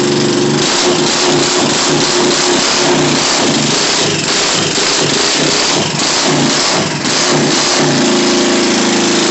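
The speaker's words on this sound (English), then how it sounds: "My bike is very, very loud, but not as loud as a Harley Davidson." A loud Honda Helix scooter engine runs steadily and close by, its rough mechanical drone holding throughout with slight changes in pitch.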